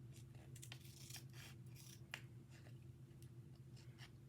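Scissors snipping through a paper cut-out face in a run of quick, close cuts with soft rustling between them, over a low steady hum, no talk.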